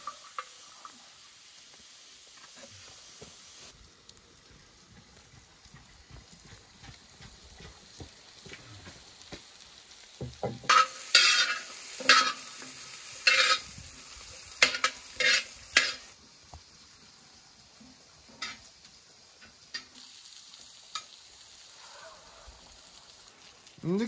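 Beef and tail fat stir-frying in a pan, a low crackling sizzle with bursts of loud spattering scrapes in the middle as the meat is tossed, with speech heard at times.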